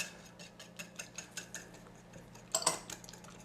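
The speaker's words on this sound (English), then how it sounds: "So you just want to keep mixing and kind of folding your batter until you get all those lumps out." Rosette batter mixed and folded in a bowl, a utensil tapping and scraping against the bowl in a steady series of soft close clicks, with a brief louder clatter near the end.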